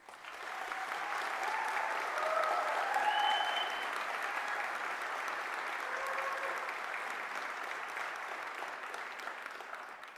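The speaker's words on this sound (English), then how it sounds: "So can I get a big round of applause for all of our graduates?" Audience applause for graduates at a Fife College graduation ceremony, a steady, dense wash of clapping from a large crowd sustained for about ten seconds, swelling slightly near the middle, with a few faint voices underneath.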